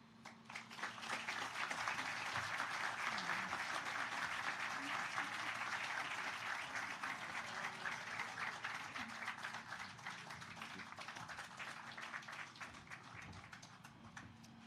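A crowd at an evening tribute event applauds in a long, dense wash of clapping that stays steady for several seconds and slowly tapers, with faint voices underneath.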